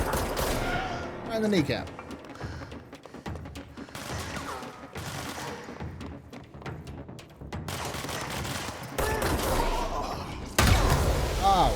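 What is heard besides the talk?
gunfire from the video game Control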